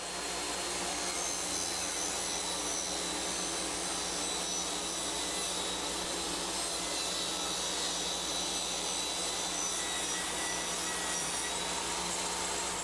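A DeWalt DWE7485 jobsite table saw rips half-inch plywood, giving a steady, loud whine and cutting roar that holds without a break for about thirteen seconds, with no talking.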